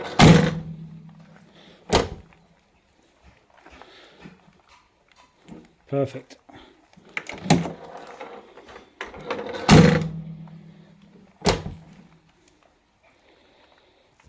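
Land Rover Defender 130 TD5 door, newly fitted, slammed shut several times with sharp solid thunks and latch clicks, close by, with brief talk between the shuts.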